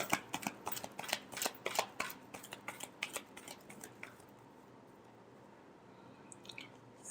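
Tarot cards are shuffled in quick bursts of soft flicking and riffling clicks for about four seconds, then the sound trails off into quiet room hiss with a faint tap near the end.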